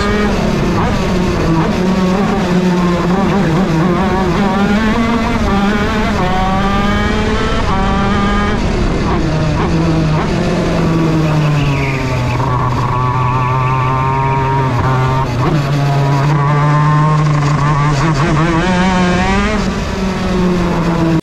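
Engines of go-karts racing round a track rise and fall in pitch continuously, loud and steady throughout, with no talking.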